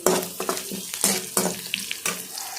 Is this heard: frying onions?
yes